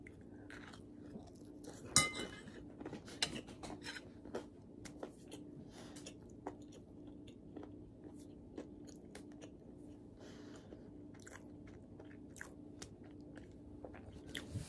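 Crunchy bites and chewing of a baked calzone made from two-ingredient dough, a sharp bite followed by steady soft mastication and a few faint clinks of cutlery or glass, close and quiet with no talking.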